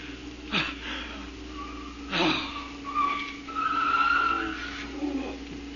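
A car skidding to a stop in an old radio drama: several sharp tire squeals and screeches come in bursts over a low rumbling engine, with a slightly muffled, dated sound.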